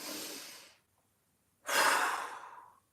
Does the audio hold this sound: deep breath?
yes